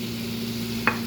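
Steady sizzle of garlic dropped into hot butter with chicken in a pan, a continuous close frying hiss with one brief stir clink near the end.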